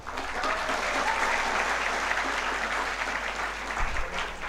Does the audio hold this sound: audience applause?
yes